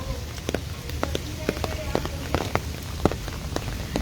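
Rain falls steadily on a street in Lahore, with close, distinct drops pattering and tapping on a hard surface over a soft, continuous hiss.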